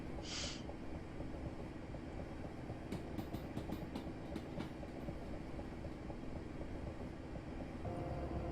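A Class 465 electric train in Train Simulator 2016 on the Chatham Main Line near Swanley, running with a steady rumble and faint wheel clicks, a brief high tone at the start and a cluster of clicks midway.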